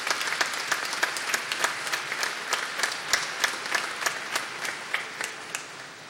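Audience applause at a formal solemn medal ceremony: steady, moderately distant clapping from a crowd with individual claps standing out, heard alone at a soft level.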